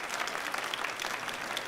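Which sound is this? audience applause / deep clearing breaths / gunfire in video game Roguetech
audience applause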